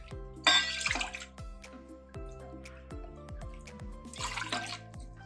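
Water splashes into a bowl in two bursts, with ringing, tonal resonances and drips between pours, close and fairly loud.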